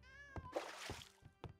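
A cat meows in the farming and tavern video game Travellers Rest, giving a few short, close meows with small soft thuds between them. No one speaks over it.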